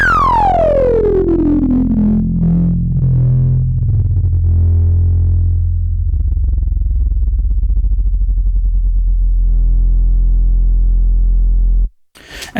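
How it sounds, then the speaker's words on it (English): A Behringer Neutron analog synthesizer's oscillator voice undergoes a single long downward filter sweep, its bright harmonics closing steadily over about twelve seconds into a dark, buzzing low tone before cutting off abruptly. "And that's our filter sweep from the Neutron."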